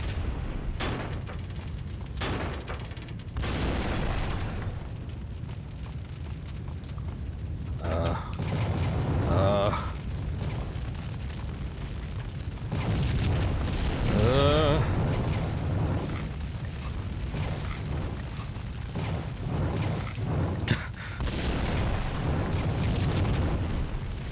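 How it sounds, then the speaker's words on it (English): Deep booming explosions in the Max Payne video game erupt repeatedly, rumbling low and loud with crackling debris bursts, while someone talks intermittently over them. "Guessing this is just gonna be a run from explosions section of the game."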